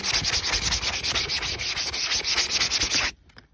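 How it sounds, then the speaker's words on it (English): Steady, rhythmic sanding strokes rasp against painted fabric, continuous and close, stopping abruptly near the end. "So sanding it is actually gonna soften the fabric again."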